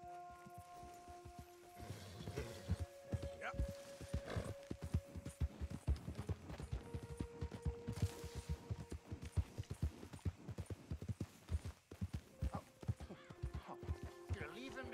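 Horse hooves clip-clop in Red Dead Redemption 2, an irregular run of close hoofbeats and thuds over a game soundscape with tonal music or effects, occasional whinnying, and someone speaking briefly.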